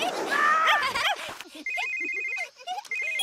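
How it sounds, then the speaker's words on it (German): Cartoon telephone ringing as a call goes out, with repeated bright electronic ring pulses following a short burst of talking at the start. "Wir müssen Ryder anrufen."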